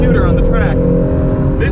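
A 2020 Acura NSX drives on a race track, its engine holding a steady, sustained drone from inside the car while a voice talks over it.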